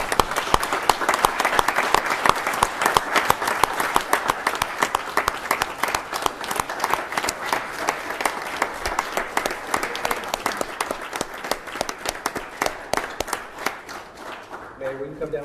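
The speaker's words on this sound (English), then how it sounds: "Everybody up here deserves another round of applause" A crowd at a city council meeting claps steadily for about fifteen seconds, a dense, even round of applause that slowly thins toward the end.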